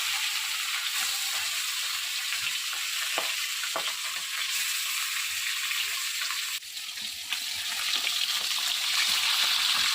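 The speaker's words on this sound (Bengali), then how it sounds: "এখন কড়াইয়ে তেল গরম হয়ে গেছে, তো একটা একটা করে দিয়ে আমি ফ্রাই করে নেব" Pieces of rohu fish frying in hot oil in a wok give a steady, close crackling sizzle that runs without pause, with a few sharper spits and small clinks from stirring along the way.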